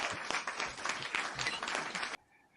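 Brisk studio audience applause welcoming a guest onto a travel talk show, dense and fairly close, cutting off abruptly after about two seconds.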